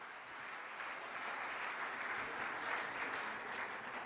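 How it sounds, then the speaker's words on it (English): Applause from a rally crowd at a Long Island healthcare activists' event in New York, a steady, dense wash of clapping that holds at an even level for the whole stretch with no voices over it. "Let's give him a big round of applause"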